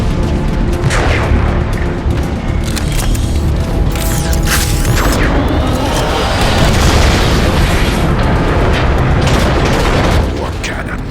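Heavy cannon blasts boom continuously in Transformers: Fall of Cybertron, dense overlapping explosions and gunfire-like cracks filling the whole stretch at high volume, with background game voices mixed in.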